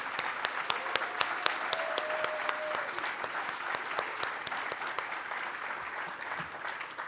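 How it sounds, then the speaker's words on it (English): Moderate audience applause honors board members at an annual photography auction and benefit, with a few distinct nearby claps ringing out over the broader crowd clapping and a faint tone briefly in the background. "I would like to give you a round of applause as well."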